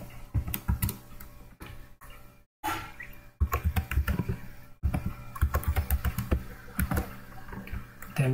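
Rapid typing on a computer keyboard while writing a C program, with dense irregular key clicks close to the microphone, broken by two short pauses, then continuing at an even brisk pace.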